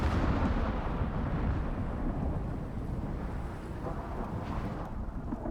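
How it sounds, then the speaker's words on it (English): Video-game lightning strikes sparking fires in the woods, a dense rumbling roar of thunder-like booms that stays loud and steady throughout. "Yeah, got some lightning going on, causing some fires here in the woods."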